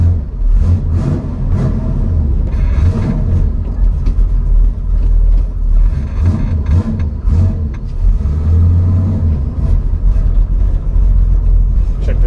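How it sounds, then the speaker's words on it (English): A 1970 Chevelle's small-block V8, paired with a Muncie gearbox, revs up loud and close in a garage, its deep rumble rising and falling in quick repeated bursts. "I love how fast this little small block revs."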